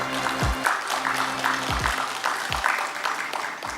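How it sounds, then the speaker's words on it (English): An audience claps in a warm round of applause at a formal partnership signing ceremony, steady crowd clapping that swells and carries on throughout. "Let's all give them a warm round of applause."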